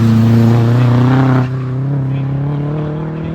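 A turbocharged race car of roughly 200 bhp climbs the hill at the Harewood hillclimb, its engine note loud and close with a steady rising drone that drops slightly in pitch and intensity midway as it passes and pulls away.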